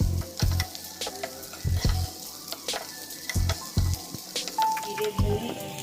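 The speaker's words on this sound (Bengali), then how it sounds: "পেঁয়াজ দিয়ে একটু ভাজা ভাজা করে নেব" Chopped onion, whole cumin seeds, chilli and garlic sizzle in a hot pan, a steady close frying hiss punctuated by repeated knocking thumps of a spatula stirring against the pan.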